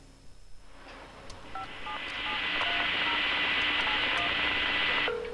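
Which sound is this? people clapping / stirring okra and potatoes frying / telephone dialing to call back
telephone dialing to call back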